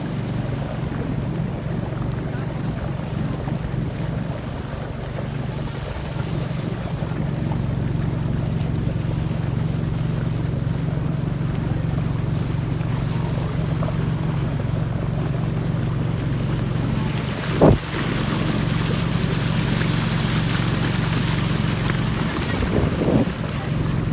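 Boat ride on the river at Anlong Phsot in Stung Treng near the Lao border, a steady loud motor drone with wind noise and water wash, a couple of brief knocks near the end.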